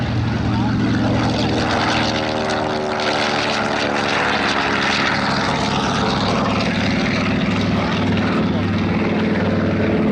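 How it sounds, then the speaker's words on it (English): A WWII Navy torpedo bomber known as the Turkey flies past at the Hollister air show, its propeller engine droning loud and steady throughout, with a harmonic pitch shift as it passes and an announcer talking faintly underneath. "The Navy's frontline torpedo bomber in the Second World War, nicknamed the Turkey."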